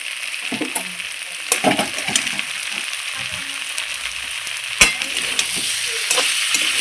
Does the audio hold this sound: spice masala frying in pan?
yes